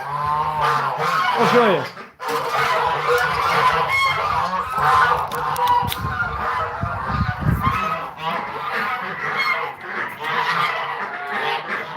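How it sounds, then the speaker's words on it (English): A flock of ducks and geese crowds into a South Dakota barn at bedtime, loud honking and quacking overlapping constantly and close by, while a person speaks briefly over the din. "You can probably hear all that quacking and all that honking. Geese are coming in with them."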